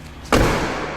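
A used car's door swings shut with a single solid thud partway in, followed by a short fading rumble.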